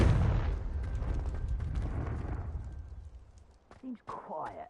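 A Confringo fire spell explodes in a video game: a loud booming blast that rumbles and fades over a few seconds, followed by brief voice sounds near the end.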